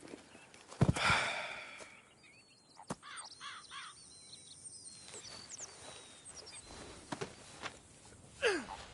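Horse hooves in the video game Red Dead Redemption 2, with a few scattered clip-clop footfalls and snorts among birdsong and chirps in an open outdoor setting, moderately near and fairly quiet.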